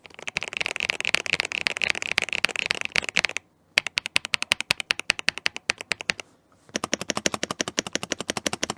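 A mechanical keyboard rattles with rapid, clicky keystrokes in close, even bursts, broken by two short pauses before the fast typing resumes, with no talking over it.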